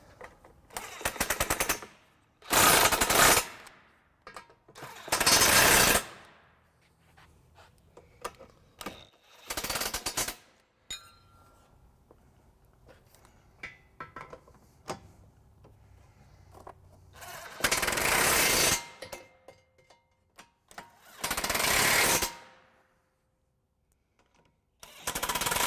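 Trailer hitch bolts tightened on a 2015 Mini Cooper Countryman with a 15mm socket: loud, rattling power-tool bursts, about five separate runs of a few seconds each, close up, with a quiet garage between them.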